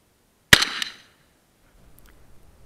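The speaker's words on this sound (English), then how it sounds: "We're going to take a shot at the steel" A single sharp gunshot from a red dot-sighted gun fired at a steel target at 100 yards, with a short ringing tail and then near silence.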